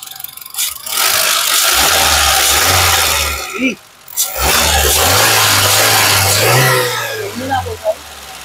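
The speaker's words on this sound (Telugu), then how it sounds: "ఇంజన్ యొక్క నాయిస్ చాలా అంటే చాలా సైలెంట్ గా అయితే ఉందండి" A 2013 Honda Brio car engine revs up loudly twice, roaring and then dropping back, with a brief pause between the bursts and a voice talking over it.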